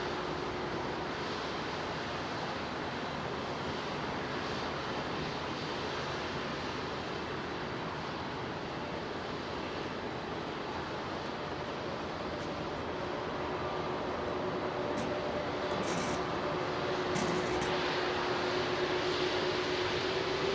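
Airbus A380 on a full-power departure at Heathrow, a steady broad jet roar heard from a distance that swells gradually louder toward the end.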